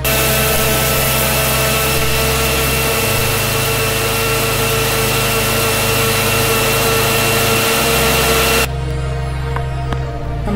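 Mixer grinder powdering roasted gram in a jar: a loud, steady whirring motor roar that runs for about eight and a half seconds, then cuts off abruptly into near silence.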